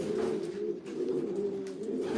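Racing pigeons cooing close by while being basketed for a race, a steady low rolling coo from several birds that carries on continuously with only a brief dip.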